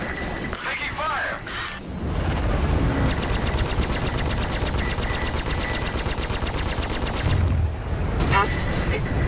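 Rapid mechanical gunfire rattles against a spaceship hull in Star Citizen arena combat training, a dense continuous burst running for several seconds amid cockpit alarm tones and hit effects, with a synthetic voice speaking over it.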